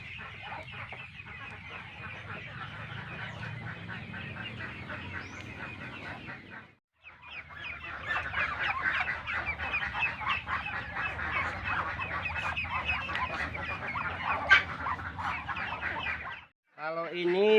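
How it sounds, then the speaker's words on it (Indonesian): A flock of Alabio ducks about two months old at a poultry farm, giving dense, continuous quacking and clucking calls, close and busy, with a brief pause midway and no clear talk. "Kalau ini bebek alabio juga ini umur sekitar 2 bulan ini"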